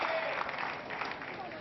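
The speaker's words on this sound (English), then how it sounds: "And not just big applause in the Crucible" Steady applause from the crowd at the Crucible Theatre during the 2013 World Snooker Championship final, continuous clapping at moderate level throughout the short moment.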